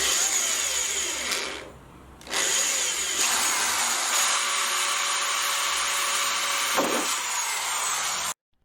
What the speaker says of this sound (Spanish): Esta mide 11 milímetros y es exactamente la perforación que haré.